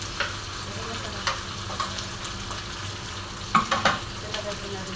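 Sardines and egg frying in a pan, a steady close sizzle with occasional sharper crackles and a few brief stirring clinks near the end.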